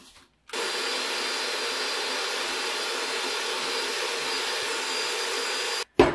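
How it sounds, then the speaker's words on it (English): An electric mixer beats six egg yolks in a bowl, a loud, steady high whir that starts abruptly, holds evenly for about five seconds and cuts off, with no talking. "So this is 6 egg yolks, and I'm going to beat them until they're light and pale."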